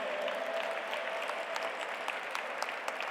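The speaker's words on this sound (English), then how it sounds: "Please give him a big round of applause" Applause from the audience at the valedictory session of the G20 Interfaith Forum in Pune, a steady wash of many hands clapping at moderate volume throughout, without talk.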